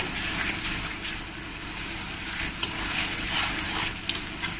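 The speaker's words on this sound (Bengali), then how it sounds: "এবার ভালো করে কষিয়ে নিতে হবে যতক্ষণ তেলটা না ছাড়বে ততক্ষণ সুন্দর করে কষিয়ে নিতে হবে" Mutton pieces with ground cumin and Kashmiri chilli powder fry in oil, a steady dense sizzle with scraping stir strokes and occasional small pops, close and continuous.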